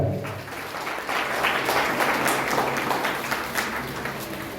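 Theatre audience at a Ranga Samranotsava stage event in Gokak breaks into sustained applause, a dense wash of many hands clapping that swells and holds steady throughout.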